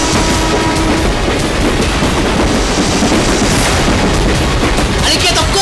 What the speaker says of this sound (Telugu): ట్రైన్ వచ్చేస్తుంది, తప్పుకో!